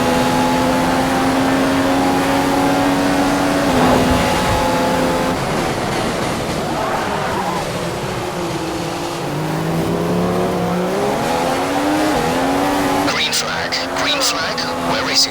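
Race cars in a racing video game at the Austria circuit roar continuously, engines rising and shifting through gears with tire squeal and skidding, loud and close, while someone talks over them.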